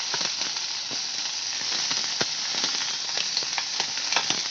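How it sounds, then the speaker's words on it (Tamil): Carrots and beans sautéing in oil for veg momo filling, a dense constant sizzle with crackles and occasional stirring ticks, close and steady, no voices. "பீன்ஸ் எண்ணெய் ஊற்றிட்டு கேரட்டு, பீன்ஸு போட்டு நல்லா வதக்குங்க"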